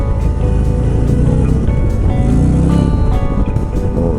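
A Harley-Davidson CVO Street Glide motorcycle accelerates hard at high speed, its big engine a loud, steady roar with rising revs and heavy wind noise throughout.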